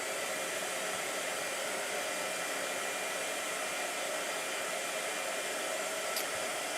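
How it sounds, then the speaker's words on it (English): A blow dryer runs steadily and continuously, a broad, even hissing whoosh held at a constant level nearby, with no voices over it. "Blow dryer. Hold on."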